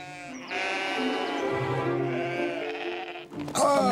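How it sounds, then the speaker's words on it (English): Cartoon sheep bleat loudly and close, a long wavering baa that carries for most of the moment, followed by a brief jumble of other farmyard noise at the end. "I need to move those sheep into that field."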